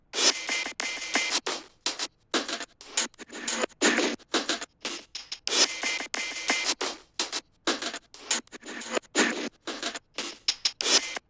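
A sliced drum break, its layers heavily distorted with Rift, chops along in gritty, bright bursts separated by short silent gaps, repeating in a steady, stuttering pattern.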